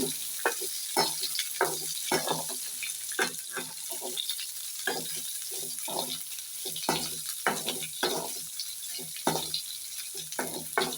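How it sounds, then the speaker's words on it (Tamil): Chopped onions sautéed in a pan for a green gram sundal, sizzling steadily up close while a spatula scrapes and stirs in a brisk, repeated rhythm. "ரொம்பவும் வெங்காயம் வந்து வதங்கக்கூடாது லைட்டாக நல்லா வதந்து கொஞ்சம் பொன்னிறமாக"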